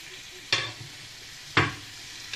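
Vegetables are tipped in two batches into a hot cast-iron grill pan with almost no oil, each drop giving a sharp close hiss and clatter that fades into a low sizzle.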